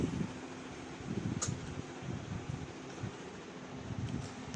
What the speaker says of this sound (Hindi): हवा चलनी स्टार्ट हो गई